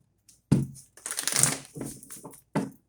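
Tarot cards are shuffled close up in a few quick bursts of riffling and sliding, with brief pauses between them.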